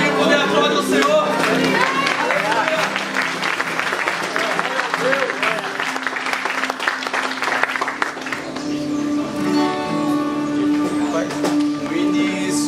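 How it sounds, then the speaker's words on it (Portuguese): Applause from a church congregation praising the Lord, dense and continuous over worship music, with voices mixed in and the clapping thinning toward the end as a sustained note takes over. "Quem puder aplaudir o Senhor."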